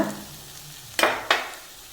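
Spice powders (coriander, pepper, garam masala) sautéing in a pan for a bone curry, with a low continuous sizzle and two sharp scraping strokes of a spoon stirring near the end; no voices.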